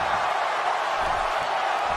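A wrestling arena crowd cheers and whoops loudly in an unbroken roar during a submission match.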